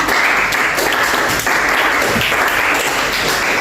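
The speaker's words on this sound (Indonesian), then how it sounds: "beri tepuk tangan untuk Fitri ya" Students in a classroom give sustained applause, dense and steady clapping from a group at close range for several seconds.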